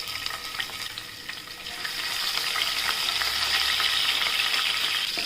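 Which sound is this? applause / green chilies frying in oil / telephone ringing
green chilies frying in oil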